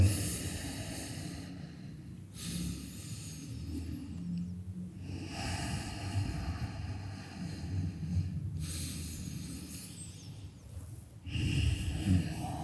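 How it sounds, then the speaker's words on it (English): Slow, deep breaths during a morning yoga power flow, with long airy inhales and longer exhales in a steady cycle. The breathing sounds close and soft over low background noise. "keep your eyes closed and see if you can lengthen the inhale with slightly longer exhale"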